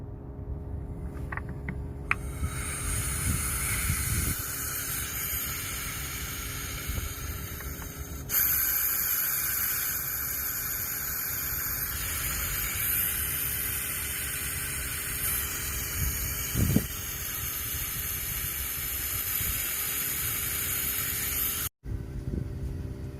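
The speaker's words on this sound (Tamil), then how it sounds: "ஸோ இப்போ நம்ம வந்து நைட்ரஜன் ப்ரெஷர் பூரா நம்ம வந்து ரிலீஸ் பண்ணிடலாம்" Nitrogen pressure venting from the pipes of an LG Dual Inverter split air conditioner, a steady broadband hiss that runs almost unbroken for over twenty seconds, strengthening partway through and cutting off abruptly near the end.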